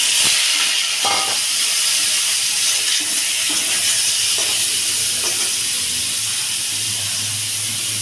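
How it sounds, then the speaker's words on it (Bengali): Pointed gourd sizzles loudly in hot oil, a dense steady hiss with occasional pops and crackles throughout. "এই তেলে দিয়ে দেবো পটল"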